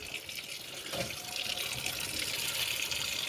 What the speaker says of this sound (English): I'm going to turn this to sprayer. Kind of important because we're going to really wash down that rice